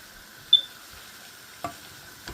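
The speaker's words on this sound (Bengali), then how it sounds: "এখন নেড়ে পেরে আমি মিক্স করে নিলাম" Spices fried with dried chillies in a frying pan, a faint steady sizzle broken by a few isolated spoon taps and scrapes, close by and quiet, with no one talking.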